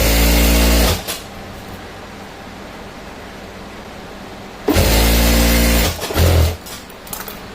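A sewing machine stitches the folded bottom edge of a chudi top lining, running in two loud, close bursts, about a second at the start and over a second later, with a quieter gap of handling noise between and no talk.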